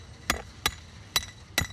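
A hammer drives metal tent pegs into the ground while a large tent is set up for an afternoon performance: four sharp, close strikes spaced about half a second apart, with no talking.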